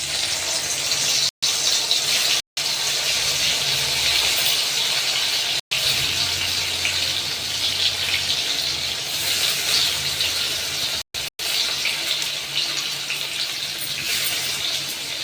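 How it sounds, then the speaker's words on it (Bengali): Paneer pieces frying in hot oil give a loud, steady hissing sizzle that runs throughout, broken by a few brief cuts of silence. "এবার আমি পনিরগুলো ভেজে নেব।"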